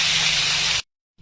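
Potatoes frying in hot white oil with salt and turmeric in a wok, a loud steady sizzling hiss that cuts off abruptly, then resumes after a brief silence.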